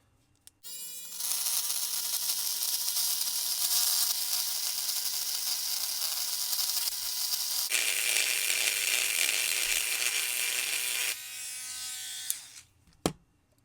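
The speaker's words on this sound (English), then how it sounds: "just put it in a small sanding wheel. We're going to clean these contacts off." A small rotary tool fitted with a sanding wheel whines steadily at high pitch for about eleven seconds while cleaning the metal contacts of an MTH Railking General 4-4-0 model steam locomotive, with a change in tone partway through, then stops, followed by a couple of clicks.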